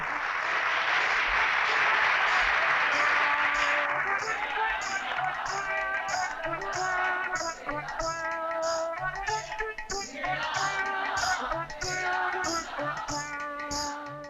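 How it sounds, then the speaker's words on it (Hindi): Audience applause, a dense burst of clapping for about four seconds that then thins out as people start talking over the remaining sound. "तालियां।"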